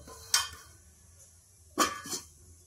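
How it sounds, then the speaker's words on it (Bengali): A metal lid set down over a pan while an aloo paratha cooks, giving one sharp clatter and then a quick double knock of metal on metal, close and otherwise quiet. "এবার আমি ঢাকনা ঢেকে রেখে দেব"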